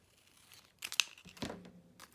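Paper is cut and handled with scissors while making journal cutouts, producing a couple of quick crinkling snips and rustles close by, separated by short quiet gaps, with no voices.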